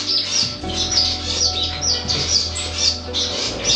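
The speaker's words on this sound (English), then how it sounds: "Here I have the diamond dove family, very cute birds." A family of diamond doves in a bird room give soft, repeated high chirps in a steady rhythm, close and clear over a low steady hum.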